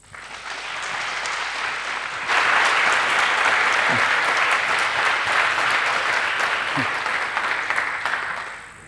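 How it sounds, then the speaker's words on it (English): A conference audience at a hacker camp breaks into applause to welcome a speaker, starting moderate and swelling abruptly into a full, sustained burst of clapping that holds steady before tapering at the end, with a few faint calls inside. "So please give a warm, welcoming applause to him now"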